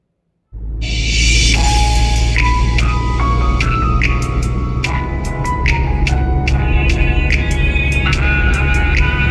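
A car travels along the highway to Akkalkot, its steady engine and road rumble loud and continuous throughout, with repeated short bright tones sounding over the drone.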